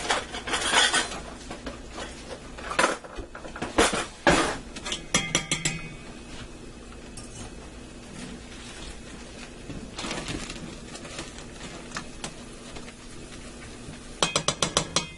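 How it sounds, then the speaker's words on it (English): A spatula stirs a simple flour roux in a pan for au gratin potatoes, giving bursts of rapid metallic scraping and clinking separated by quiet stretches, close and fairly crisp. "I'm going to stir this until it's all blended and let it cook for about a minute"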